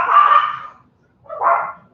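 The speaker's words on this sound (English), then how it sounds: "See, the dogs are communicating." Dogs bark twice, each bark short and close, with a brief pause between them and no other sound.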